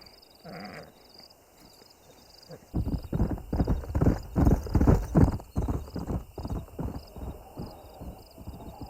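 Horses in the video game Red Dead Redemption: a whinny near the start, then a loud, close run of rhythmic galloping hoofbeats that continues to the end, over a faint background chirping.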